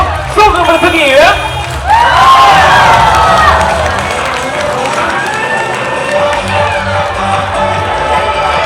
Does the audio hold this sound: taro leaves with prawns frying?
no